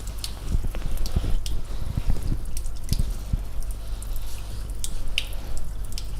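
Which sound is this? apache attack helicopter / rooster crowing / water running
water running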